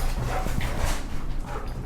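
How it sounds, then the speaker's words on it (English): A dog yips and whimpers excitedly in short bursts over a steady low rumble, fairly close and continuous throughout. "I'm pretty sure you can hear my dog going crazy."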